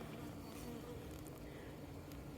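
Bees hum steadily around a log hive where brood is being raised, a dense continuous buzz close by with no pauses and no talking.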